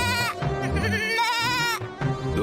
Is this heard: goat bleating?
yes